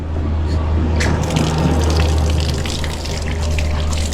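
Water gushing out of a newly installed pipe at a rural work site, a loud continuous rushing splash close by, with voices briefly audible under the flow.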